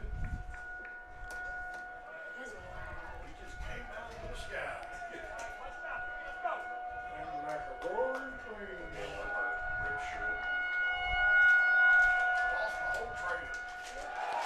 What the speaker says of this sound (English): that tornado siren's got to be distracting